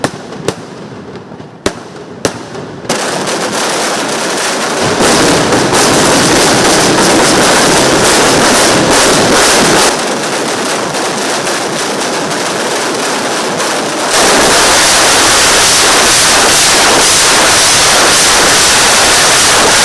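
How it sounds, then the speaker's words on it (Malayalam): A few sharp cracks open into a dense, roaring barrage of daytime fireworks at the Thrissur Pooram temple festival, continuous booming and crackling that stays very loud and close to the end. "തുടർന്ന് ഏവരും കാത്തിരുന്ന പകൽ വെടിക്കെട്ടിന് തിരികൊളുത്തി"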